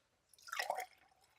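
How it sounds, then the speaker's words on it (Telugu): Warm water from a copper bottle splashes briefly into a glass, a short soft pour lasting under a second in a quiet room. "ఇందులో వామ్ వాటర్ పోయాలి."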